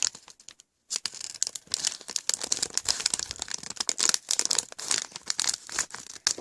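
Snack packaging for a Horadekita chocolate banana powder candy kit, handled and cut open with scissors; dense bursts of crinkling and rustling plastic come up close and fairly loud over several seconds, following a brief silent gap.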